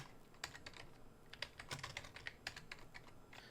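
Typing on a computer keyboard, a quiet run of irregular close key clicks and taps with short pauses.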